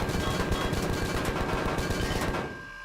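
Rapid, dense gunfire rattles continuously in the sci-fi survival video game Empyrion Galactic Survival as a player shoots at a target. The bursts are loud and sustained, then cut off near the end.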